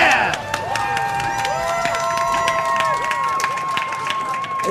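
Audience applause and clapping at a live speedrun show in Boston, a steady wash of many hands with cheering, continuing throughout with game sounds and chatter mixed in.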